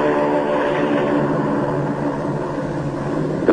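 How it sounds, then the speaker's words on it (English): A PBM flying boat makes its takeoff run on the water as jet assist bottles blast, giving a loud, steady roar of engines and rocket thrust with rumbling rush throughout and no voices. "On the water, the great PBM makes her takeoff run. Her jet assist bottles blast."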